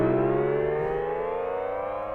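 A sustained synth chord whose pitch slowly slides downward, smooth and steady like a winding-down siren, playing alone without voices.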